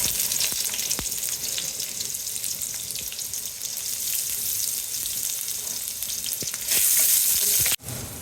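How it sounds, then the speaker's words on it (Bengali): Onion frying in hot oil in a wok gives a loud, dense, continuous sizzle close up, swelling brighter near the end before a sharp drop, with no voices. "তেল গরম হয়ে গেছে। এখন এটার মধ্যে দিয়ে দেবো পেঁয়াজ"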